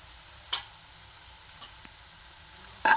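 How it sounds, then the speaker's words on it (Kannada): Curry leaves and finely chopped onion frying in tempering oil, a low continuous sizzle punctuated by a few sharp pops and spatters, the loudest near the end. "ಸ್ವಲ್ಪ ಚಟಪಟ ಅಂದಮೇಲೆ ಕರಿಬೇವು ಹಾಕಾತೀನಿ ನೋಡ್ರಿ"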